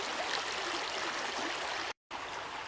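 A stream flows with a steady, even rush of water, continuous and fairly close, broken only by a brief dropout near the end, with no voices.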